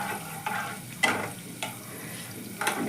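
A pinch of panch phoron spices dropped into hot oil for muri ghonto, with a low sizzle and several distinct scraping stirs of a spatula against the pan, spaced about a second apart.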